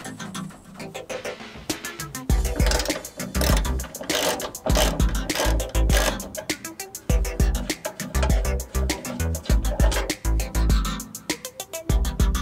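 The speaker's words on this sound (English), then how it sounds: "we'll take our 12 mil bolt and we'll loosen this top bolt." A ratchet wrench loosens a 12 mm bolt on a third-generation Toyota Tacoma hood, giving rapid clicking bursts in irregular runs over a busy background.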